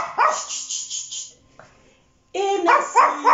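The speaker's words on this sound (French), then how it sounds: "le chien qui aboie comme à la fin de chaque cours" A dog barks in a quick run of sharp yaps, fairly close, falls briefly silent, then barks again in a second loud burst at the end of a calm-down exercise class.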